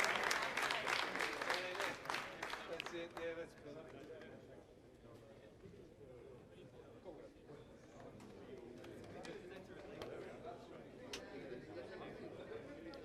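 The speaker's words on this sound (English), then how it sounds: "More cheering." A crowd claps and cheers loudly for a few seconds at the Sky Muster and ARSAT-2 rocket launch, then the applause fades into a murmur of crowd chatter and voices.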